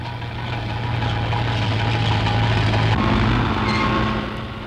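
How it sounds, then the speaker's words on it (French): Mechanical earth-moving machines and trucks at a coal mine in Decazeville: a steady, loud, low engine drone with idling rumble, constant throughout. "Les engins mécaniques entrent alors en action pour dégager le passage des camions."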